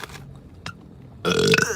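A person burps: a short low gurgle, then a loud, drawn-out belch close to the mic that lasts about half a second.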